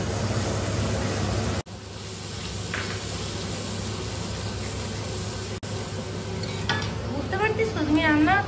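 Chicken meat sizzles and is stirred in a hot pan, a steady crackling hiss with a couple of brief scraping breaks. Voices come in faintly near the end.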